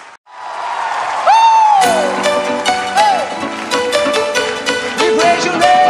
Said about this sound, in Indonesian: Tepuk tangan yang mana buat Allah kita.